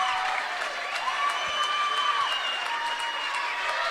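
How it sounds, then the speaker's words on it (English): A volleyball arena crowd claps and cheers during the fourth set of a college conference tournament championship match, a sustained roar of applause with whistles and shouts that holds steady throughout. "Crowd on its feet here in the arc."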